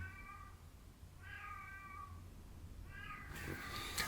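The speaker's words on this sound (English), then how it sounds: "she was meowing way too loud" A cat meows three times, loud and close, each cry drawn out, followed by a sudden burst of hissy noise at the end.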